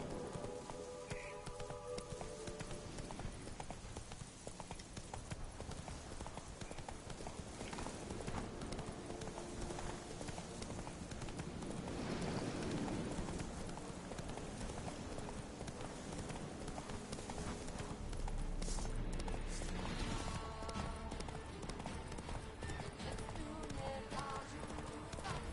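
Roach, the horse in The Witcher 3, gallops with rapid, continuous hoofbeats amid dense game ambience, with occasional speech laid over the drumming hooves.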